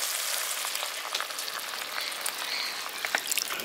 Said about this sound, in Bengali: এবার এর মধ্যে আমি পরিমাণ মতো জলটা দিয়ে দিচ্ছি।